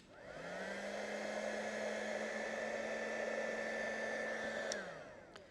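A heat gun blows steadily for about five seconds while artificial flower stamens are made, a smooth whooshing whine that starts up, holds at an even level, then winds down at the end.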